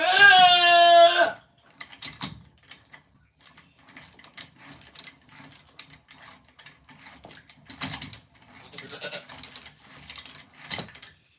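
Goats kept on a homestead have their hooves trimmed. One loud, close bleat comes at the start, then a run of scattered clicking and rattling from handling and gear.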